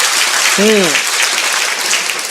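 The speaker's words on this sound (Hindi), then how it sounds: "क्या कहने, तालियां हो जाए सर।" An audience at a religious quiz competition applauds a correct answer with a continuous, even wash of clapping that fills the whole stretch, and a brief voice rises over it near the start.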